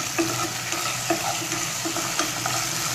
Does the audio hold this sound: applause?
no